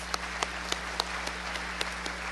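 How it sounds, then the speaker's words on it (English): A few scattered, faint claps spaced out over a steady low electrical hum, like a sparse audience applauding. "Let's give these long-standing members a round of applause."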